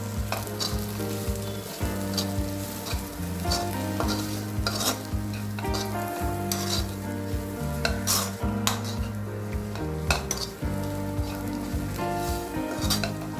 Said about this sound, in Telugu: ఇప్పుడు బాగా వేగినాక కారం 1 టేబుల్ స్పూన్, ధనియా 1 టేబుల్ స్పూన్ వేసి కలపాలండి.